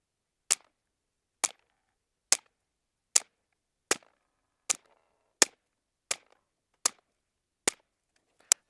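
Eleven sharp .22 rifle shots from a Derya Arms TM22 firing RWS Target Match ammunition crack out at an even pace, each brief and distinct with silence between.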